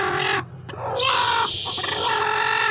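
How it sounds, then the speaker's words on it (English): A broody hen clucks and growls in agitated, harmonic bursts on a homestead, close and loud, with a short pause before a sustained, insistent vocalization that continues to the end. "This one's a broody. Listen to her."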